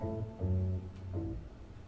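A short bass groove with low thumping notes in a steady rhythm, close and clear, with soft drum hits underneath.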